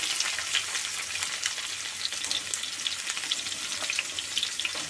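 Cumin seeds and onion pieces fry in hot oil, a steady close crackling sizzle with occasional stirring, and no voices.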